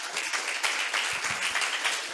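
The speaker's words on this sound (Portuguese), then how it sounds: "Posso ouvir uma salva de palmas ao Senhor?" Congregation applauding the Lord during a church sermon, steady dense clapping from a crowd throughout, moderately loud and continuous.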